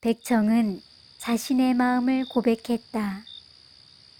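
Crickets chirp at night in a steady, thin, continuous trill that runs beneath a voice narrating in Korean and carries on faintly through the pauses.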